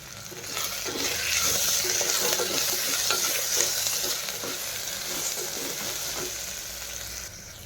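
Boiled eggs are stirred with whole spices in a hot pan, giving a loud, continuous sizzle and crackle with faint metallic clinks from the spoon throughout.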